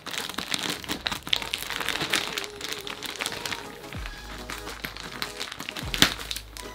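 A backpack is unwrapped from its plastic packaging, producing close, irregular crinkling and crackling bursts of plastic film with short pauses between handfuls.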